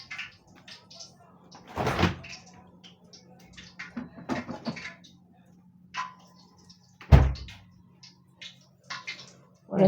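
In a home kitchen, a refrigerator door thumps open and later shuts with a solid knock, amid small clicks, rustles and a steady low hum.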